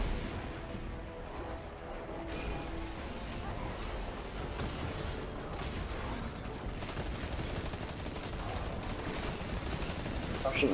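Continuous bursts of rapid gunfire and scattered shots in a multiplayer first-person shooter match keep rattling at a steady level throughout, with no clear speech.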